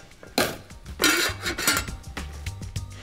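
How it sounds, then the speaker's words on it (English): A pot lid clanks onto a pot of drained potatoes in a kitchen, with a few metallic clinks and clatters of cookware. "So, drain potatoes, put the lid on."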